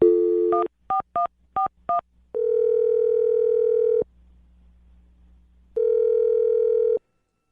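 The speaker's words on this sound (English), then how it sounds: "Jake, I'm going to dial her phone number right now and see if we can get her on the phone" A telephone call being placed: a short burst of tone, then five quick dialing beeps, followed by two long ringback tones separated by a quiet pause, clear and close on the line.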